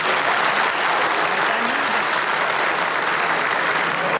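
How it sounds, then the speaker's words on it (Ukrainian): Loud, dense applause fills a parliamentary session hall as three former presidents of Ukraine enter, a steady crowd roar that holds throughout and cuts off sharply at the end. "Їх зустріли оплесками."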